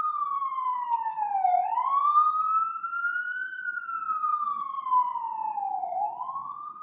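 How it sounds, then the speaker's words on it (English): Emergency vehicle siren wails outside at moderate distance, one clear tone sweeping down and up in slow repeated cycles, with no other sound around it. "Sorry for the sirens."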